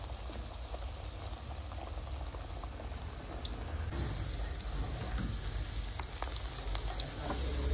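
Millet Maddur vada deep-frying in hot oil, a steady, dense bubbling sizzle with crackles, close and continuous throughout.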